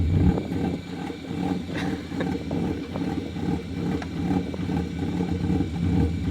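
A BMW E36, running after an engine swap, idles with a steady, even rumble that holds close and loud throughout, with a few faint mechanical ticks on top and no talking.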